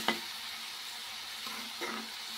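Curry sizzles steadily in hot oil, a constant close frying hiss with a couple of brief clinks or stirring scrapes, and no one speaking.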